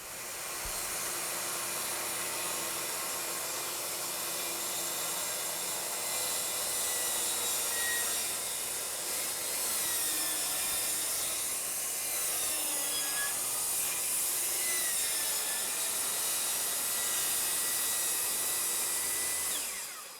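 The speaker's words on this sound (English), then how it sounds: "we'll pull the trigger, plunge down, and then begin our climb to the other end of the rail." An EZSMART track saw whines steadily as it plunges and cuts along its rail through the anti-chip edge, a continuous loud motor drone with wood-cutting rasp throughout.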